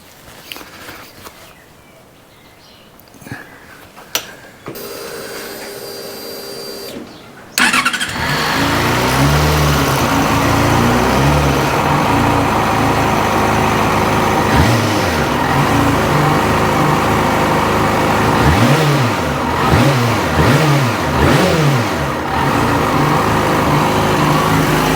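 A Yamaha FZ6 motorcycle is cranked after some clicks and quiet shuffling, then fires up and settles into a loud, steady close-range idle, with a few throttle blips swelling the engine note partway through.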